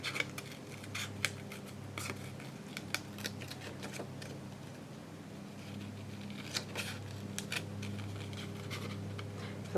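Scissors snip around a paper cutout of a saloon girl, making quick, close, quiet cuts in irregular runs over a faint background hum.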